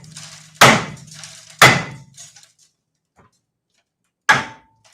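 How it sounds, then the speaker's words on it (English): A sledgehammer beats a rusted car part off in a workshop, landing two sharp, loud metallic blows close together, then a pause and a third blow, with a faint scrape between. "What's the most commonly used tool in the shop, huh? Right there, sledgehammer."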